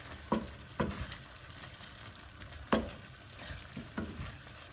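Onion jam stirred in a pan with fresh thyme, a spoon scraping in several distinct strokes over a soft, steady sizzle, close and fairly quiet.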